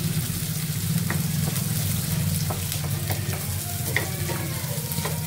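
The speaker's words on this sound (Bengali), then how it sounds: "এখন একটু লাল লাল করে এগুলো ভেজে নিব।" Garlic and onion frying in a pan, a dense steady sizzle with faint crackles and occasional stirring, close and continuous.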